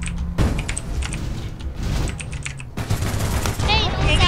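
Gunfire in the PC game APB Reloaded comes as rapid automatic bursts and sharp single shots. Keyboard clatter and players talking sit underneath, fairly close and loud.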